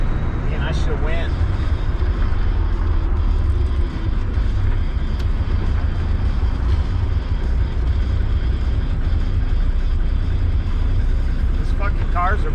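Steady, loud roar of cars passing close by on a road, a continuous rumble of traffic with a few faint chirpy sounds at the start and end.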